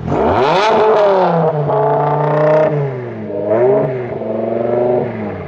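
A high-revving naturally aspirated V10 engine screams loudly, pitch climbing sharply, dipping between gear changes, then rising again in repeated sweeps, with no voices.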